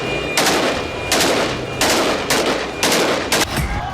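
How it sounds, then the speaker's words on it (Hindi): Rebels celebrating in a Syrian street fire AK-47 rifles, loud repeated bursts of automatic gunfire in several clusters, with brief gaps between them, close by. "असद शासन पर बड़ी जीत का जश्न सीरियाई विद्रोही सड़कों पर खुलेआम AK-47 से गोलियां दागकर मना रहे हैं।"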